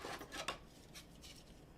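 A 2020 Allen and Ginter trading card pack being torn open, brief scratchy ripping of foil wrapper in a couple of quick pulls, close and fairly quiet with no talking.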